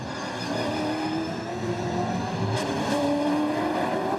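V8 Supercars racing at Bathurst, a Ford trying to pass a Holden, engines droning loud and steady with rising and falling harmonic tones as the cars run close together.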